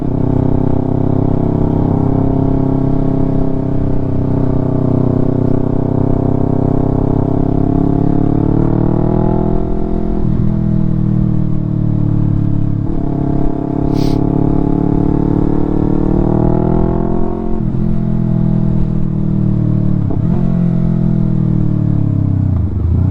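A Yamaha R3 motorcycle with an Akrapovic full system exhaust revs close and loud, a strong droning engine tone that swells and falls in several smooth blips with no talk.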